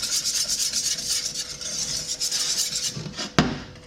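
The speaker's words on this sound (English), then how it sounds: "we roll out the bottom crust" A rolling pin works leftover frozen pie crust dough for the bottom crust of an apple pie, giving a soft, rhythmic rubbing and rasping, then ending in a sharp knock.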